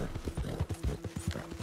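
Horse hooves clip-clopping in a video game, a brisk, steady rhythm of close, muffled hoof thuds on the ground at a walking-to-trotting pace, with a faint low hum beneath.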